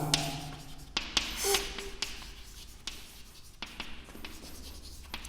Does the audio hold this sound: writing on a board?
yes